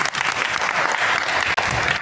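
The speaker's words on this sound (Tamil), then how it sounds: "பரவாயில்ல, அவங்களுக்கு கைத்தட்டல் கொடுத்துடலாம்" Steady applause from a class at a devotional music lesson, a dense, loud run of clapping that keeps going with no talking over it.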